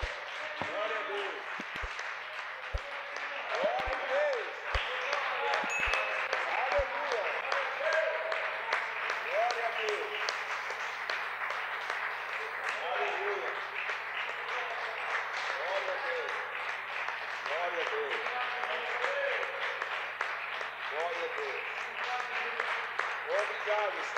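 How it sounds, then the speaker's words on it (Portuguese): A church congregation applauds at a morning worship service, dense sustained clapping lasting the whole stretch while a voice speaks over it, with a few soft low knocks at the start. "Aplauda o Senhor Jesus nesta manhã"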